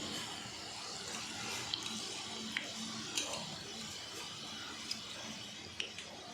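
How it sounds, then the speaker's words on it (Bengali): Malabar spinach pakoras in gram-flour batter fry in a wok as a faint, steady hiss with a few scattered crackles and pops, heard alone. "ভাজা হচ্ছে ভালোভাবে।"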